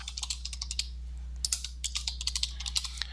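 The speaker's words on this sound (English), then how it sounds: "I'm going to type in the same thing." Rapid bursts of keystrokes clatter on a computer keyboard, close and quiet, with short pauses between runs of clicks over a low steady hum.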